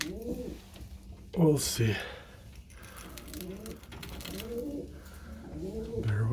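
Breeding pigeons in individual pens coo repeatedly, soft low throaty calls close by, while someone talks quietly over them.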